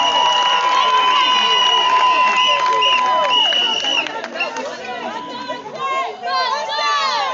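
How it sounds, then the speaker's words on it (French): Crowd at a wedding ceremony cheering and applauding the future newlyweds, a dense mix of excited voices, whoops and scattered clapping that stays loud throughout, with a sustained high-pitched cheer near the start. "Est-ce qu'on va applaudir très fort pour les futurs mariés?"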